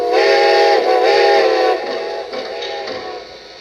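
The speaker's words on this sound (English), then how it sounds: "So here's the ghost whistle feature." A Lionel Strasburg 90 model train sounds its ghost whistle: a loud, chord-like steam-whistle blast that holds for nearly two seconds, then drops to a fainter, wavering tone that fades out.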